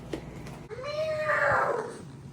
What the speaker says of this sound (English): That was a cat in distress.